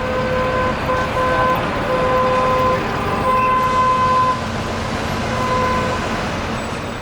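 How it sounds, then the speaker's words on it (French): Car horns honking in Manhattan street traffic, several short and sustained toots overlapping above a steady roar of engines and road noise. "À New York, un coup de klaxon se traduit par « Allez, vas-y mon frère, je te laisse passer »"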